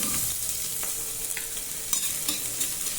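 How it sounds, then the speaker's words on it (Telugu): Cloves, cinnamon and chopped onion frying in a pan for a vegetable rice dish: a steady, close sizzle with occasional stirring scrapes and light clinks, continuous and moderately loud with no voices. "ఇవి వేగిన తర్వాత ఒక ఉల్లిపాయను చాప్ చేసి వేసుకోండి"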